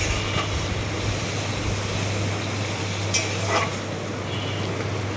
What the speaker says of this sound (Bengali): এখন কষিয়ে নেব, একটু ভালোভাবেই কষাবো।